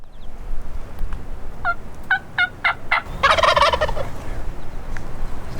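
Several short, evenly spaced yelping calls are answered by a rattling wild turkey gobble, moderately distant, over soft outdoor background noise during a spring hunt in Texas.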